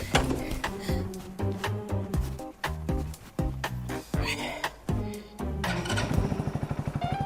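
A motorbike engine sputters and catches in a string of uneven bursts and thumps, then settles into a fast, steady putter close by.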